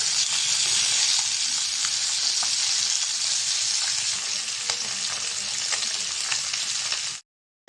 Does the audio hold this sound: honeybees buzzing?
no